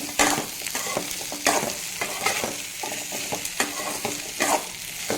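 Pieces of yellow pumpkin sautéing in a pan, loud close sizzling with a rhythmic series of scraping strokes as a spoon stirs them every second or so.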